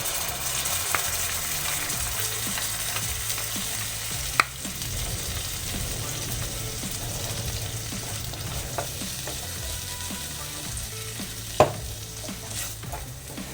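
Spice paste for a vegetarian chhana (cottage cheese) curry sizzles and fries steadily in a hot wok, with occasional stirring scrapes and sharp clinks, no voices.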